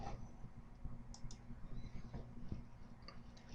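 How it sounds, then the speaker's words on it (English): Computer mouse clicking softly a few times in quick succession, faint and close, against a steady low room hum. "And now I'll click back."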